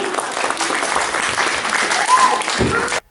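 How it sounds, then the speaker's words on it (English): An audience at a Christmas program gives a big round of applause, loud full clapping with some cheering mixed in, sustained evenly before cutting off abruptly near the end. "give him a big round of applause"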